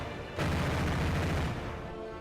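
A Flakpanzer Gepard anti-aircraft gun fires a single sustained burst of rapid rounds, starting abruptly and lasting about a second before tapering into a reverberant tail.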